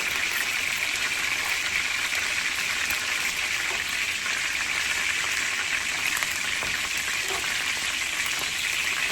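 Chicken drumsticks frying in a pan for Liberian jollof rice give a steady, close crackling sizzle that continues evenly throughout with no talk.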